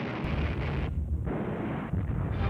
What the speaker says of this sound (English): booming cannons, the sharp crack of machine guns and Thompsons